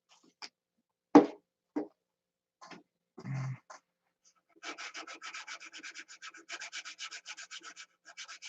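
Wood is sanded by hand with a rasping scrape, starting as a few scattered strokes and settling into a rapid, rhythmic back-and-forth rubbing, close and fairly quiet.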